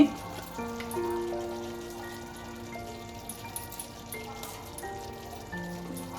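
Masala paste for paneer korma sizzles and spatters in a pan as it is fried, a soft continuous crackle with a faint tonal hum in the background.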